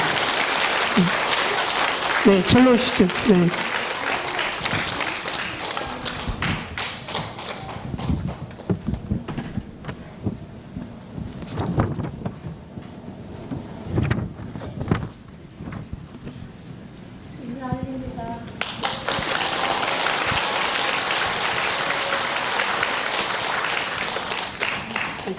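At a Won Buddhist volunteer association's national officers' training, the audience applauds to welcome a former president to the front. Steady clapping opens and closes the stretch, with a short spoken exchange and quieter movement in between.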